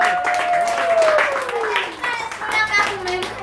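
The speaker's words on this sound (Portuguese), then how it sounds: "salve de palmas!" A small group claps for a capoeira master at a children's capoeira gathering, brief and moderately loud, while a voice speaks over the clapping.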